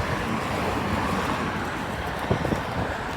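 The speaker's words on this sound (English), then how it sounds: "We got a little bit of wind, but that's okay." Wind rushing over the microphone while inline skating on a paved rail trail in San Marcos, a steady loud roar with a few gusty buffets, no voices.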